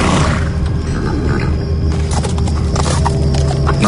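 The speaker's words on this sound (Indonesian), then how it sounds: "aku sangat dekat dengan kereta kuda itu." A horse-drawn carriage in Cicalengka, with hooves clip-clopping close and loud alongside a horse's neigh, all in a dense continuous clatter with no talking.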